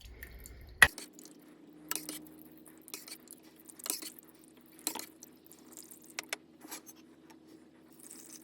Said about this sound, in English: I'm just going to put it through a sieve.